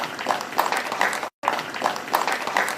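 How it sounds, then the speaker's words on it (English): An audience claps continuously for NEC staff at the Kenyan KCSE 2020 results release event, making a dense crackling patter of many hands with a brief cut in the middle. "Can we give them a clap?"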